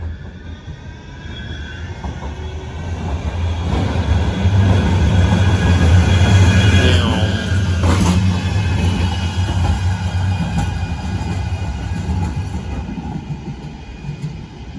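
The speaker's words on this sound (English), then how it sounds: "Oh, there goes tram." A tram rumbles past nearby in Manchester, a steady low mechanical drone swelling and fading over several seconds with faint squeals and clatter, no voices.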